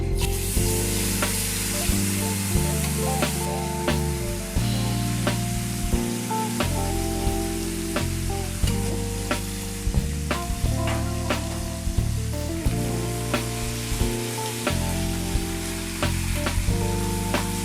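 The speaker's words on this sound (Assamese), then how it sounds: "মই মাছবোৰ দি যাম" Boroli fish pieces frying in hot oil with turmeric over a high flame, a steady loud sizzle with bursts of spattering and crackle running throughout, close by with no voices.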